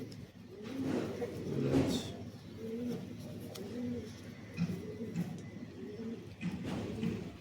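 Pigeons coo in a repeated series of soft, throaty calls at close range, several bursts rolling one after another over faint background noise.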